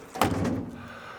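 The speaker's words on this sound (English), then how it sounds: "let's close this door." The door of a Toyota Troopy canopy camper swings shut with a single solid, close thunk that rings briefly and fades, with no talking.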